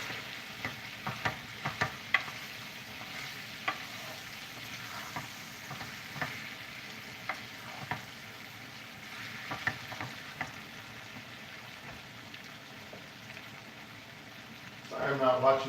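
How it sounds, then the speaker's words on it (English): Meat for a Guinness stew browns in a hot pan, sizzling and crackling steadily throughout, with occasional scrapes and stirs close by and a brief clatter near the end. "we're just really going to brown this just to kind of seal the flavors, seal all the juices into this meat"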